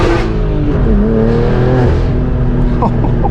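A BMW M4 G82 with a manual gearbox revs hard on a drive out with a group of cars, its engine note rising and falling loudly and close up through the cockpit while a person talks over it.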